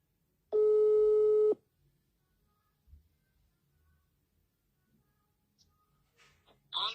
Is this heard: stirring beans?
no